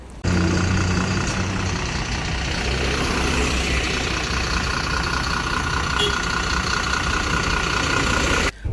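A Volvo 9600SLX sleeper bus of BSR Travels idles at a toll plaza stop, a steady loud mechanical drone with a constant hum, with speech partly over it.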